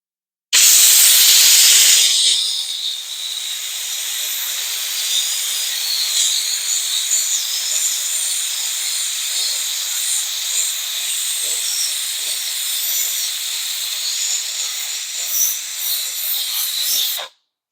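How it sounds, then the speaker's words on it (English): A Wagner steamer hisses as it steams a sunken couch cushion: a loud burst at the start, then a long, continuous, close-up hiss of steam that lasts about fifteen seconds. "So we have a steamer for that."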